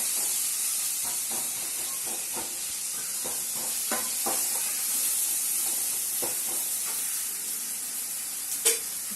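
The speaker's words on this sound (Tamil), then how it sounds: "இந்த வெங்காயம் தக்காளியும் நல்லா வதங்கினா தான் அந்த குழம்பு வந்து ரொம்ப டேஸ்டியாக இருக்கும்" Onions and tomatoes sautéing in a pan for chicken kulambu: a steady, close sizzle with scattered scrapes and taps from stirring, with no one speaking.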